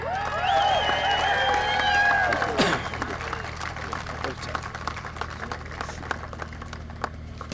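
A speedway crowd at Kingaroy Speedway cheering and applauding the Street Stocks Australian Title winner, a broad roar with whistles that eases into steady scattered clapping, with a voice talking over it.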